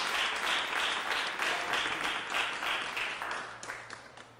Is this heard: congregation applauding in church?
yes